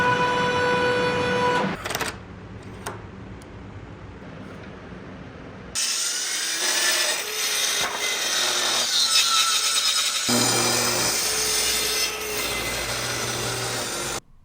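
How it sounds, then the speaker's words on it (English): A Porter Cable restorer power tool working the live edge of a black walnut slab, a loud whirring abrasive grind that starts and stops, with rough rubbing textures against the wood and short quieter gaps between passes. "So I'm using my restorer from Porter Cable. It cleans up the live edge without sanding it down"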